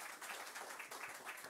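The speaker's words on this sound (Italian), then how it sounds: "c'è un piccolo applauso." A small audience gives brief, light applause at a gaming talk, scattered claps at moderate distance with a faint murmur beneath.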